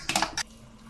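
A spoon or ladle stirs chicken biryani in a metal cooking pot, giving two quick, close scraping clinks in the first half second before near silence.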